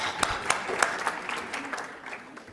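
An audience at a college global fashion and talent show applauds after a national costume runway group, with claps and cheers that fade over a couple of seconds.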